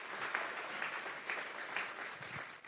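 A church congregation claps together, a soft, steady patter of many hands with faint rhythmic swells, heard from a distance and without speech.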